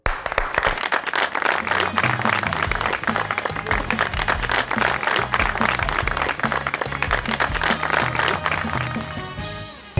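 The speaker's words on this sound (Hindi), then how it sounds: "बहुत सारी तालियों में वेलकम कीजिएगा" A television talk-show studio audience welcoming a guest with loud, dense, continuous clapping that holds steady for several seconds before tapering off at the end.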